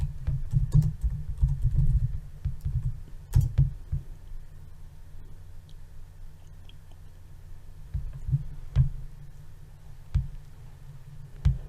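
Keys clatter on a computer keyboard as a terminal command is typed, with bursts of quick, close taps separated by short pauses.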